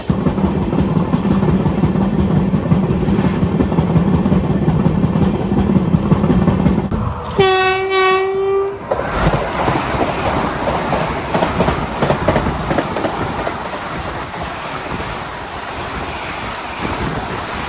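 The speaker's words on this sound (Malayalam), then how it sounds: "ബഗട്ടിക്കോട്ടിൽ നിന്ന് ദാദർ പോകുന്ന എക്സ്പ്രസ് ആണ്. ഇതിനിപ്പോൾ ഡീസലാണ്." Diesel Bagalkot–Dadar express train passing close by, a loud rolling clatter of wagons with a sharp horn blast partway through, followed by continued rattling of cars going past.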